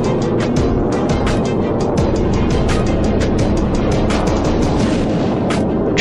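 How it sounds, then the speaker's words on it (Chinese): An F-22 Raptor fighter jet climbs vertically after takeoff, its engines producing a loud, continuous roaring blast with crackling bursts throughout and no letup in intensity. "驾驶着 F-22 以90度角垂直爬升，直接来了个干拔起飞的特技表演"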